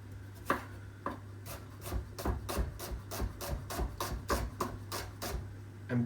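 An onion being chopped with a knife on a board, a quick run of close, even chops that speeds up, with a faint steady hum beneath.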